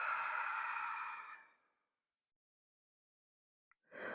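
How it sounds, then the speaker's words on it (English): In a morning stretching routine, one long, deep exhale sighs out, close and clear, and fades over about a second and a half. Silence follows, then the start of the next breath. "And deep breath out."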